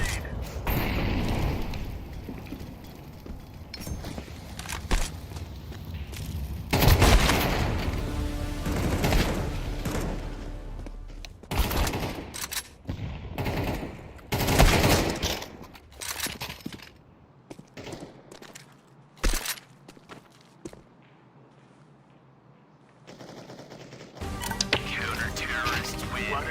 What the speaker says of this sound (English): Throwing flashbang. Grenade out. Throwing a grenade.